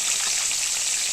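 Pieces of clown knife fish fry in refined oil over a low flame, giving a steady close hiss and crackle with no talking.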